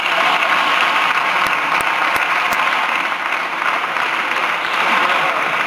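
Dense, sustained applause fills a parliament chamber, steady and loud from start to finish with many hands clapping at once.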